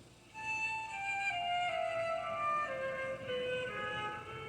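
Smooth, sustained flute line by a 14-year-old player in St. Thomas the Apostle Roman Catholic Church, Bloomfield, New Jersey, a slow descending phrase of held notes with soft church reverb, played alone without voices.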